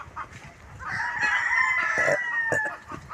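Nearby chickens cluck and a rooster crows in a drawn-out call, close and moderately loud, over a quiet farmyard.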